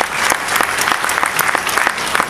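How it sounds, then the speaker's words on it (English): An audience at a Nu Skin co-founder's talk gives a round of applause, loud and close, with a crisp, continuous patter of many hands throughout. "let's give a round of applause there"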